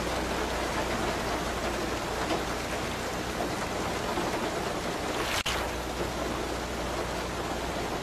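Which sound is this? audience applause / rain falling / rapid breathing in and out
rain falling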